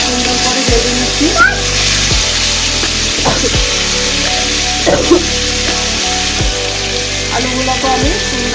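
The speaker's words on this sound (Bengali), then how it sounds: "এর জন্য আলুগুলোকে আমি সুন্দর করে ভেজে নিচ্ছি।" New potatoes frying in a pan, making a continuous sizzle beneath prominent background music.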